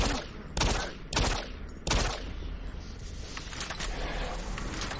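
Three loud, close shotgun blasts fired at a zombie in Doom 3: Resurrection of Evil, spaced about half a second apart, then a quieter rumbling scuffle.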